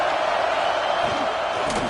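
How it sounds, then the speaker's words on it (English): Football stadium crowd roaring steadily, a loud dense wash of cheering voices filling the whole moment without a break. "This crowd ready to make its presence known."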